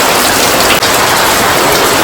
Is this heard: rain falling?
yes